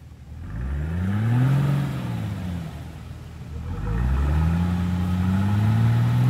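A car with a 4.2-litre naturally aspirated engine driving on a road in the Carpathians, heard from inside: the engine revs up in two rising and falling sweeps, a loud steady drone throughout.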